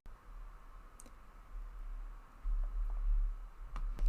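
A computer mouse gives a couple of faint, sharp clicks against a quiet background hum, with no talk.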